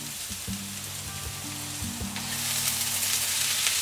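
Green onions and Brussels sprouts pan frying with garlic and olive oil give a bright, steady sizzle with a low hum and a few soft knocks, the hiss swelling slightly near the end, close and without speech.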